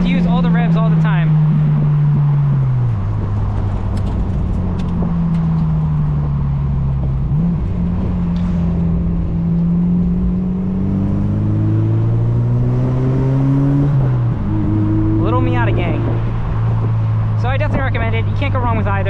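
A Mazda MX-5 Miata (NC) engine revs hard while driving on backroads, loud and close throughout, its pitch climbing and dropping through repeated gear changes.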